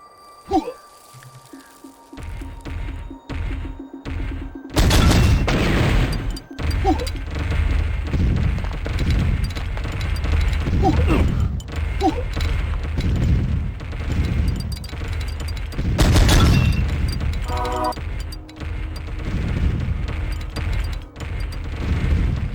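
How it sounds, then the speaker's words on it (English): Exploding cannonballs in a video game level go off as repeated heavy booms and bursts, loud and close, over busy game sound with sudden blasts breaking through. "The part of the level with all the exploding cannonballs."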